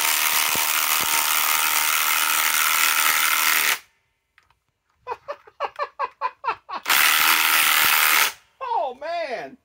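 A Harbor Freight Hercules cordless impact wrench drives a 10-inch lag screw: a long loud motor whine, a pause, a quick run of rattling impact hammer blows, then more sustained loud whirring followed by a wavering wind-down.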